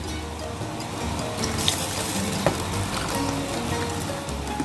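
Char siu pork sauce coming to a boil in a pot, a steady bubbling hiss with scattered small pops, close and moderately loud, with no talking.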